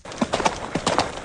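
A quick, light series of horse hoof clip-clops in an uneven trotting rhythm, close and brief, with no talking.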